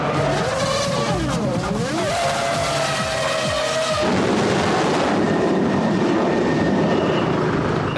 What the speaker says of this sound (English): With engines running and cars screaming by on the track, it's impossible to hear